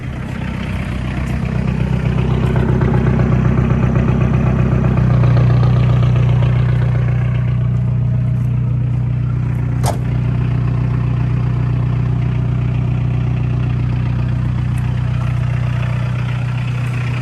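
A diesel-swapped Chevy Luv pickup with an indirect injection engine settles into a steady, loud idle with a low, even rumble and light clatter, holding unchanged for the whole stretch after an early rise in revs.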